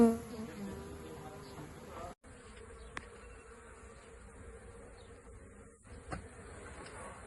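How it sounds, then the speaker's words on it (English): A swarm of honey bees buzzes steadily during a bee removal, a faint, continuous drone with a few soft bumps and clicks and no talking. "So now we've got a nice big clump of bees, and they're all bridging together there"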